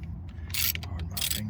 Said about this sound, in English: we're going to pull these screws out here.